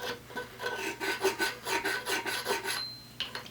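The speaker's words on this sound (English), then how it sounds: "I've just filed it a little bit longer" Metal file rasping on a Remington 870 shotgun magazine tube to remove its dimples, a quick run of about a dozen rhythmic back-and-forth strokes, close and fairly quiet, ending with a brief pause and a final stroke.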